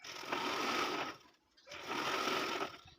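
A sewing machine runs a centre seam down a folded saree for a godhadi quilt, buzzing steadily in two close bursts with a short pause between them, no talk.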